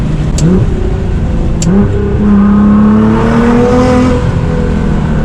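Nissan GTR in race mode accelerating at full throttle through a turn, engine note climbing steadily and loud with a continuous rising drone, close and alone without talk.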